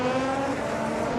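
Race cars, including a Formula car and GT3 car, run at the Autopolis circuit in a racing video game, a steady loud engine whine with tonal drone held for about a second, no voices.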